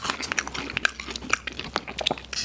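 Apple slices from a McDonald's Happy Meal are chewed close up, quiet crisp bites and wet munching in an irregular rhythm over a short stretch.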